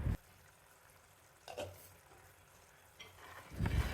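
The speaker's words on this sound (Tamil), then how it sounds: "மூடி போட்டு 2-3 நிமிஷம் வரைக்கும் கொதிக்க விடணும்." A Chettinad-style curry for yellowfin tuna simmers in a covered pot, giving a faint, soft bubbling sizzle broken by a few brief clatters, with no talking.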